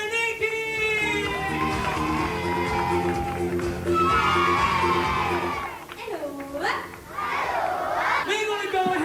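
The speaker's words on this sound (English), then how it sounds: "let's have a big cheer for Nikki!" A holiday-park family-room audience at Haven Primrose Valley roars and cheers for the hostess, a loud crowd of mixed voices with children shouting and whooping, swelling and dipping over backing music.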